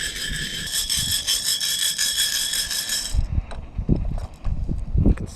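A small coffee grinder whirs over freshly roasted beans outdoors on seaside cliffs at Cape Zanpa, Okinawa, a buzzing grind for about three seconds that cuts off, followed by irregular scraping and knocking.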